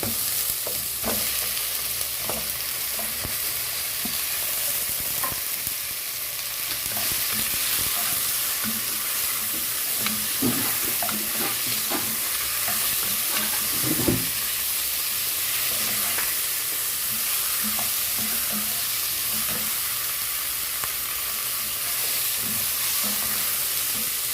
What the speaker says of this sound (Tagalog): pwede na natin igisa sabay dyan ang ating mga buto-buto